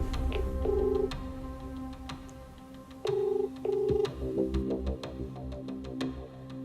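A phone places an outgoing call, and its ringback tone sounds in short paired bursts with a pause between. Light ticking and faint background noise sit underneath.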